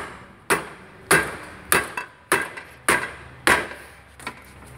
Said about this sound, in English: a couple of good whacks on that T-bar, that thing will blast right off there probably